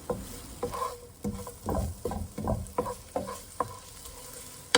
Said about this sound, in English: Stir fry another third of the sliced onion. 1 teaspoon of minced garlic.